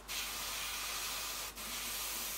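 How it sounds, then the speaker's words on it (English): An airbrush sprays paint onto an Eduard 1/48 scale Spitfire model kit, a close, steady hiss that breaks off briefly and then resumes. "spray it through just to make sure that the colour's through"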